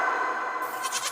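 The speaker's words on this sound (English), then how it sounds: "G for goat" A goat lets out a single drawn-out bleat, wavering and nasal, close and clear with nothing else around it.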